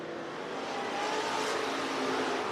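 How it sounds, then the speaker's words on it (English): Dirt track race cars roar down the backstretch at Willamette Speedway in Lebanon, Oregon during a heat race, a steady, broad engine wash that swells slightly as they pass, with no talking. "It's a drag race down the backstretch"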